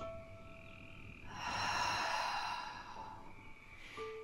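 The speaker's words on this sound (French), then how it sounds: "Puis j'expire par la bouche." A slow, breathy exhale through the mouth during a Pilates breathing exercise, soft and close, rising and fading over a couple of seconds against quiet background tones.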